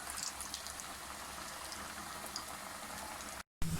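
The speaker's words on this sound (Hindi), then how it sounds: "ये मीडियम आंच पर हम पकाएंगे इन्हें ताकि अच्छे से ये ब्राउन हो जाए" Smiley face potatoes fry in oil in a pan over a medium flame, giving a steady, close bubbling sizzle with fine crackles throughout and a brief gap near the end.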